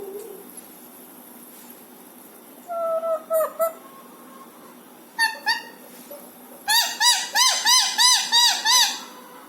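A pet parrot imitates a hen's egg-laying cackle, starting with a few scattered squawky notes and then building into a rapid, rhythmic run of loud, repeated clucking calls near the end.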